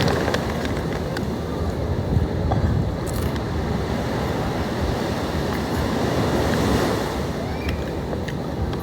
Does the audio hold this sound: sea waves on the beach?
yes